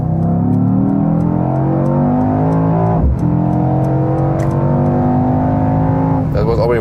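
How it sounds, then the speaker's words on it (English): A 2021 Mercedes E63 S AMG with a 4-liter V8 pulls hard on the German Autobahn, engine note climbing steadily through the gears with a brief shift break, loud inside the cabin as someone talks over it. "this is definitely a great performance from this 4-liter V8"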